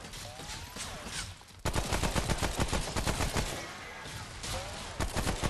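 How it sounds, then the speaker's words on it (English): Rapid bursts of gunfire crack out in repeated volleys, rounds fired in quick succession. After a quieter opening, the shots become loud and dense, almost continuous, with brief pauses between strings. "he's just shooting off rounds in the distance"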